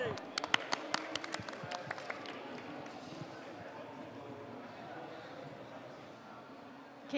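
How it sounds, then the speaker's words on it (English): Audience at a panel session on startups going global breaks into applause, a burst of crisp individual claps early on that thins into a softer, steady crowd patter with murmuring voices. "can I ask you please for a round of applause for Going Global Investor Founder Insights"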